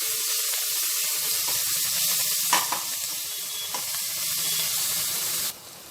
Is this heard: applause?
no